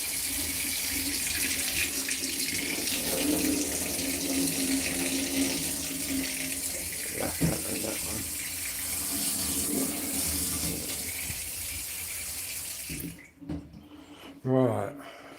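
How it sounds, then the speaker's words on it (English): Hot water runs steadily from a tap into a sink, a loud continuous splashing rush that stops near the end and leaves a few trickles and drips; no speech is heard. "Let's see if we got any hot water out of here."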